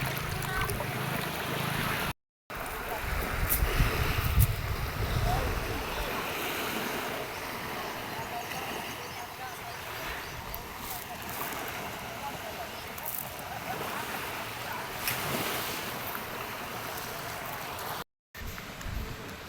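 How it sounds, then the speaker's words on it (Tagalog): Strong waves washing onto a beach at a resort, a constant surf wash with heavier surges early on, while people talk and call out faintly nearby. "Lakas ang alon."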